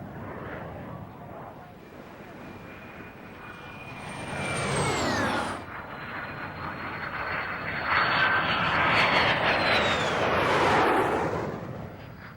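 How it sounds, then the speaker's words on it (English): Gloster Meteor jet fighters pass by with a loud engine roar and descending whine, swelling and fading twice over a rumbling background. "Gloucester Meteor jet fighters were in squadron service."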